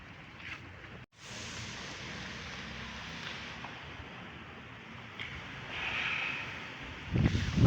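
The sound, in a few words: strong wind blowing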